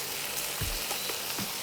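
Coconut milk is poured into a hot pan for a lime coconut chicken gravy, giving a continuous sizzling hiss with a few soft low thumps and bubbling pops.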